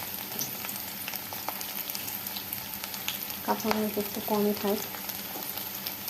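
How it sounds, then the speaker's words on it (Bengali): Onions and green chilies sizzle steadily in hot oil in a wok for a ridge gourd curry, with someone speaking briefly partway through over the crackle. "তো দিয়ে দিচ্ছি পেঁয়াজ, তারপরে কিছু কাঁচামরিচ"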